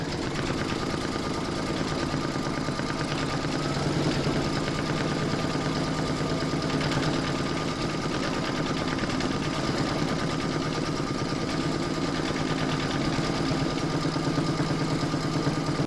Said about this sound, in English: pop that back into your machine and stitch round number 8, and that's going to put all the hair detail into the design